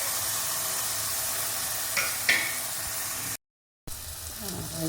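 Tomatoes with coriander powder and chili powder frying in hot oil give a steady, close sizzle, with a couple of brief scraping clinks from stirring and a short dropout near the end.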